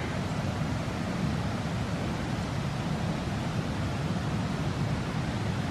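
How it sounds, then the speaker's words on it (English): A small creek runs past a waterfall beside old mill foundations in Poinsett State Park, South Carolina, giving a steady, close broadband rush of flowing water with no pauses and no voices. "And here's the waterfall and the little creek that once helped power this mill."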